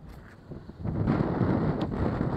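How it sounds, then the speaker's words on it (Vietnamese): Strong mountain wind buffets the microphone in a steady, loud rush that swells after a quieter start, with no voices heard. "Gió này, gió cực kỳ luôn."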